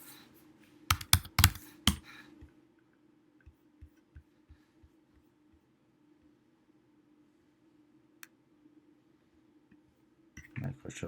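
A few quick computer keyboard clicks come as a password is typed, followed by a string of faint, evenly spaced taps and a brief louder burst near the end.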